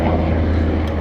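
A helicopter passes overhead as a brief, steady engine drone and broad rumble, fairly loud and without talk.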